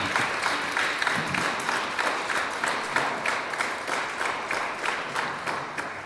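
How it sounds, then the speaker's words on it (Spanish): A room full of people applauding steadily at a quinceañera celebration, dense clapping that stays even throughout without a break. "Vamos a darle un fuerte aplauso a ella y a sus familiares."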